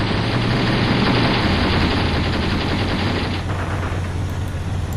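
Gunfire aimed at an enemy tank in Graviteam Tactics, a steady stream of rapid automatic shots over a low engine rumble, loud and continuous throughout.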